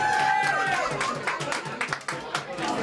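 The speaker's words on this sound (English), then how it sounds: "Big round of applause." A short burst of clapping from a small crowd, scattered hands rising over a murmur of voices before fading.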